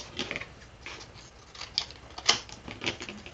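Scissors snipping off paper edges while making a craft box, a series of faint, crisp close cuts with short pauses between them.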